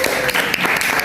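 Brief round of classroom applause from students, a quick cluster of claps lasting about a second, fairly loud and close.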